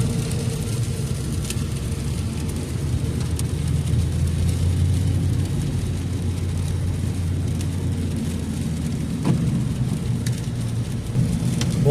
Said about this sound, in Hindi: ये कह लें कि तकरीबन 32 घंटे बारिश होगी।